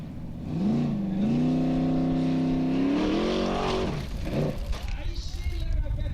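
An off-road formula racing car at an Icelandic Formula Offroad event in Blönduós revs hard on the track, its engine note climbing and holding loud for several seconds before dropping off into rough mechanical noise, with commentary talk over it.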